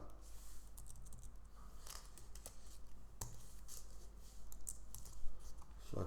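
Keys clicking on a computer keyboard while a Flutter web project is set up, a quiet run of irregular taps close by with no talking.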